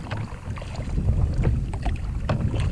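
Steady wind buffets the microphone out on a kayak on open water, a continuous rushing roar with faint splashes and knocks, no speech.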